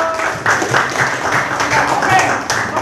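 A classroom of students claps together, a close, lively patter of hands over nearly three seconds with voices mixed in underneath.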